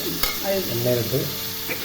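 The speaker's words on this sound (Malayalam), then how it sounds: "ഇതിൻ്റെ അകത്ത് എണ്ണ ഒഴിച്ച് നമുക്ക് ചിക്കനൊന്ന് വരട്ടാം" Steady sizzling of chicken frying in hot oil, with a spoon stirring and scraping through it, close and fairly loud.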